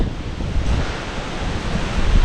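Strong wind gusts across the open grounds of an old, abandoned cemetery, making a steady, loud, broadband roar that swells slightly toward the end, with no talking.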